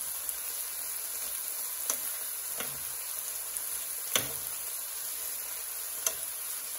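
Seasoned shrimp fry in a pan with a steady, even sizzle. A few sharp utensil clicks and taps break through from time to time, and no one speaks.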